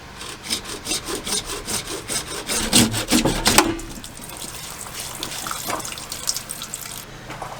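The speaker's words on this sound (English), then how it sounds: "I'm going to go ahead and just cut the PVC right here." A hand saw cuts through PVC pipe near an elbow in a well house plumbing job. Quick rhythmic back-and-forth strokes sound close and loud, then give way to slower, scattered rasping.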